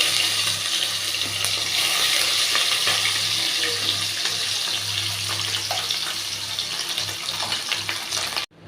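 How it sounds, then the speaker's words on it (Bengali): Fish pieces frying in hot oil in a kadai for an eggplant and fish curry, giving a steady loud crackling sizzle throughout that cuts off abruptly near the end. "তেলটা হালকা গরম হলে পর আমরা এক এক করে মাছ সবকটা ছেড়ে দেবো"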